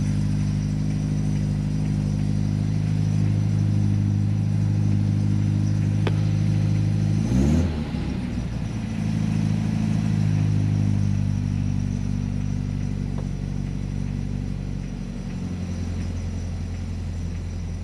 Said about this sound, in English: We'll let it idle between like 1000 and 1500 RPM for a while.